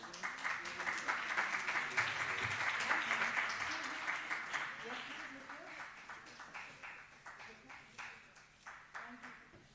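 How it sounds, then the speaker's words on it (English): Audience applause at an academic capacity-building workshop, sustained clapping that fades into thinner, scattered claps, with a voice talking over it. "A warm round of applause to"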